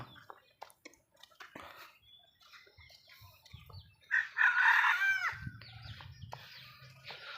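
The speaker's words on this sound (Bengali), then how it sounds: "এই পাশে মুরগিগুলো দেখছেন যে কি বড় বড় মুরগি বা এগুলো হচ্ছে দেশি মুরগি" Large native desi chickens by a railway line, with scattered clucks followed by a loud, clear rooster crow in the middle. Low murmurs and other sounds follow.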